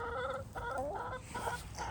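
Several hens in a flock cluck together nearby, a steady run of short, overlapping clucks and murmurs with no pause.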